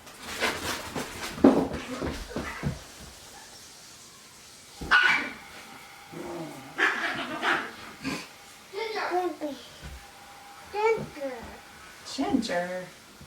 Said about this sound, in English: Hey, dogs, go away. Go away.